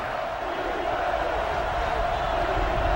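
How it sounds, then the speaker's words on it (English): A stadium crowd roars loudly and steadily at a college football game in NCAA Football 09 on PS3. The dense, continuous cheering fills the whole stretch without a break. "And this crowd is going crazy."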